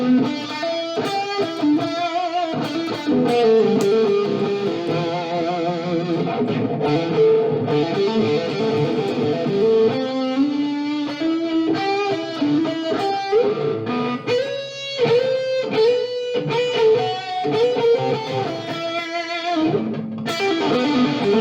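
An electric Squier Paranormal Super Sonic guitar plays a sustained, continuous solo through a Fender Mustang LT25 amp with hall reverb, loud and melodic with no talking.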